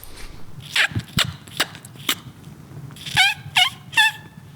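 A wild turkey gobbles in a wooded hunting area, several rattling calls in succession with shorter sharp notes before them, fairly close and loud against a quiet outdoor background.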